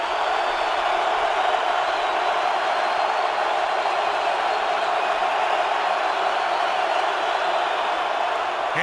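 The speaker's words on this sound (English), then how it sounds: "with communication paramount in this crowd noise" Crowd noise fills a Seattle Seahawks football stadium during a Giants game, a steady, loud, hissing roar that holds constant without breaks throughout.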